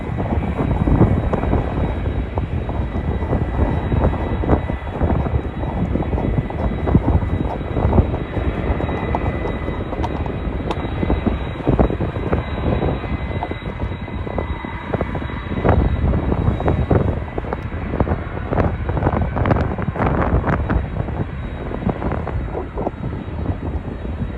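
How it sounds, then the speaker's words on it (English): A Turkish Airlines Airbus A330 airliner flies past on climb-out at Schiphol, a loud steady jet engine roar that holds for the whole stretch with no voices over it. "And there's the Turkish Airlines A330 flying up."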